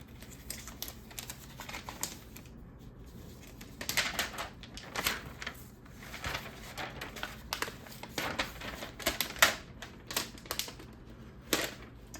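Keys clatter on a new computer keyboard in a budget gaming setup, with quick irregular bursts of crisp clicks and short pauses, close and fairly quiet, with no talking.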